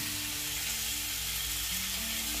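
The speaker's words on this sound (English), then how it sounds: "Do you want to keep turning the sausages so they get nice and brown?" Sausages sizzle steadily in a hot pan as they are turned, a dense, close frying hiss that holds level throughout with faint low hum beneath.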